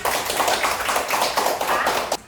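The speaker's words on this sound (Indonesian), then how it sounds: "Tepuk tangan." Classroom applause after a student group presentation, a few seconds of brisk, fairly close clapping from a group that cuts off sharply at the end.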